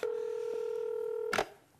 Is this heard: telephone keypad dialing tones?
yes